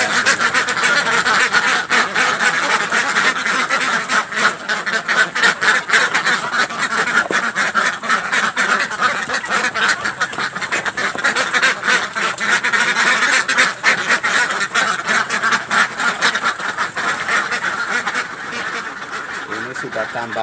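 A pen full of egg-laying ducks quacks continuously during morning egg collection, a dense, loud chorus of overlapping calls with people talking underneath.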